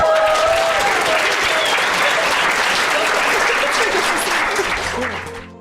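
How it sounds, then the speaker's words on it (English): Studio audience applauding for two astrology co-hosts being introduced, a dense steady wash of clapping from start to finish that fades out near the end, with a few voices mixed in. "Please, clap."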